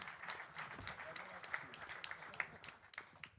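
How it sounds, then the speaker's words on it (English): Press-conference audience claps for a kickboxer at a Glory kickboxing weigh-in, scattered applause under an announcer's voice. "Give him a big round of applause"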